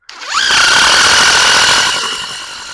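A DeWalt DCF787 impact driver spins up sharply from silence into a loud, close, high-pitched whine that holds steady for about two seconds before easing off slightly.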